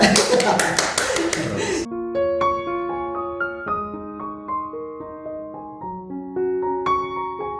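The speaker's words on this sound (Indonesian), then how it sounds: "Bagaimana kita tepuk tangan?" Audience applause at an Indonesian talk-show interview: a dense, loud burst of clapping for about two seconds that stops abruptly, followed by soft melodic music.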